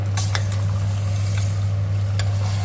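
Hyderabadi mutton curry sizzles steadily in a pan while it is stirred, with a continuous frying hiss and a few soft scraping strokes against the pan, close and fairly loud.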